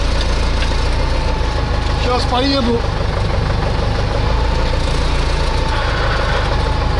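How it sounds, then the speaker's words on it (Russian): A tractor engine idles with a loud, steady low rumble close by, unchanging throughout while someone speaks briefly over it. "Завёл трактор."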